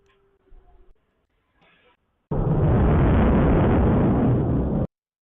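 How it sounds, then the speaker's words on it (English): Some faint muffled sounds are followed by a sudden loud, sustained roaring burst of noise from an explosion. It lasts about two and a half seconds and then cuts off abruptly. "What's the explosion?"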